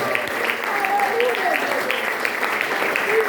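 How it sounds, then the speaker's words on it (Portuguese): A church congregation applauds with a steady wash of clapping, while voices and cheers rise over it. "Dê uma salva de palmas para o Senhor"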